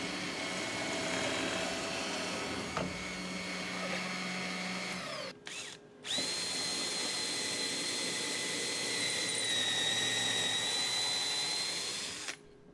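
Pillar drill pre-drilling pilot holes for screws in wood, a loud steady motor whine held for several seconds, briefly cut off and restarted, then running on before stopping.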